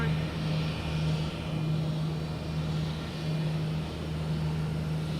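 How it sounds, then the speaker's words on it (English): JetBlue airliner arriving at Boston Logan Airport, a faint, distant engine drone with a steady low hum running beneath it throughout. "another JetBlue coming in here"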